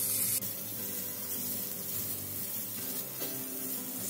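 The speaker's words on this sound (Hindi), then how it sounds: "कढ़ाई में मावा डालें। हमें मावा को इसका कलर चेंज होने तक पकाना है।" Khoya, or mawa, fries in a kadhai with a loud, continuous close sizzle and hiss, briefly changing as it is moved, with no talking.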